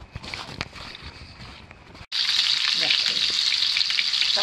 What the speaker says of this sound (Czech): Tak už se nám to krásně peče.